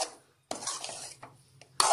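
Shark puttu with chopped coriander being stirred in a pan, a spoon scraping and clinking against the metal in two short bursts separated by a quiet pause, close by, with no talk.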